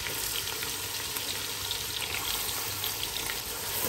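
Finely chopped onions, four large ones weighing 300 grams, frying in oil over a high flame for biryani, making a dense, continuous hissing sizzle close by, with no voices.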